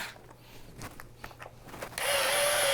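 A power drill/driver backs out two small screws from the top of a Onewheel footpad. Quiet handling comes first, then a loud, steady motor whine starts close by and runs to the end.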